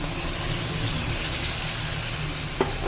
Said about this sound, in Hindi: ये देखिए मैंने 1 गिलास पानी लिया है, ये इसमें डाल देंगे।